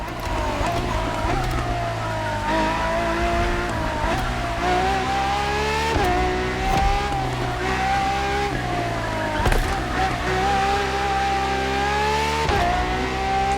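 A Ferrari FXX K supercar racing in The Crew Motorfest, its engine roaring loud and continuous with repeated rising revs and sharp gear-shift drops, tire squeal mixed in.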